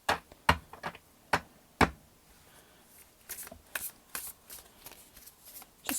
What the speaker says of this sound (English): Just do an ordinary shuffle.